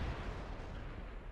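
A Wespe self-propelled artillery gun fires in World of Tanks, a heavy, rumbling boom with a dense low-end roar that fills the whole moment and trails off without any talk over it.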